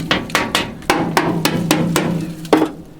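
Several sharp metallic knocks strike the solid Soviet steel door of an old digger cab, eight or nine close, ringing raps at an uneven pace, loud and alone.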